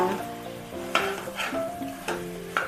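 Naatu chicken (country chicken) for a Konaseema-style curry fries in a pan over a medium flame, a steady sizzle broken by several sharp stirring scrapes and clinks of a spoon against the pan.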